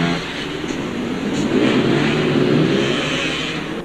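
A Husqvarna 250 two-stroke enduro motorcycle ridden by an expert rider at a two-day enduro event, its engine droning steadily at mid distance with a slight rise in revs, continuous and alone.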